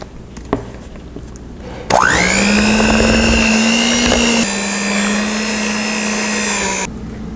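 An electric hand mixer whirs steadily through cheesecake batter flavored with vanilla and lemon zest. It starts up abruptly, holds a loud, even motor whine for about five seconds, then cuts off.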